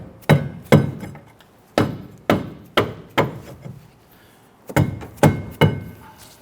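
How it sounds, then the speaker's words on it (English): Dead blow hammer striking a rear brake rotor on a 2006-2014 Honda Ridgeline to knock it loose: about ten loud, dull thuds in irregular pairs and groups, each with a short ringing decay, close up and with no talk. "We're just using our dead blow hammer here."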